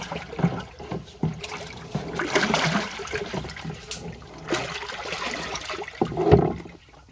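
Kaolin clay mixture being stirred in water with a shovel, producing irregular sloshing and swishing bursts with watery splashes up close, ending in a louder slosh near the end; no talking.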